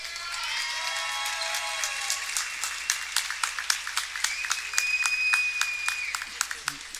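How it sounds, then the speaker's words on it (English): Sparse, rhythmic clapping from a small crowd at a girls' high school basketball game, individual claps spaced out and fairly close, with a tonal whine running underneath. "Let's give them a round Yeah, of applause."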